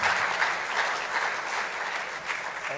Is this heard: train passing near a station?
no